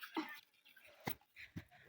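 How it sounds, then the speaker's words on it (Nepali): A dog on a rural path gives a few soft, brief whimpers and yips, spaced apart and faint against a quiet outdoor background. "डग पनि आइरहेछ"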